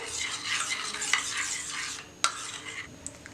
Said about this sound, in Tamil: விட்டமின் இ கேப்சூல் ஆட் பண்ணிவிட்டு எல்லாத்தையும் நல்லா மிக்ஸ் பண்ணிக்கணும்